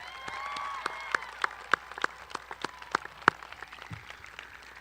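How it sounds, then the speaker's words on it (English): Audience applause at a high school graduation ceremony, a steady wash of many hands clapping with sharper individual claps standing out, fading toward the end. "Let's give them a round of"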